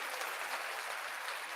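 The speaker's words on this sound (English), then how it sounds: "Round of applause." Crowd applause fills the whole short stretch, a steady dense wash of clapping at even loudness with no voices over it.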